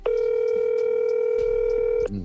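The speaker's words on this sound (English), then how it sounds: "Who the hell making a phone call?" A loud, steady telephone dial tone holds unbroken for about two seconds during a phone call, then cuts off abruptly.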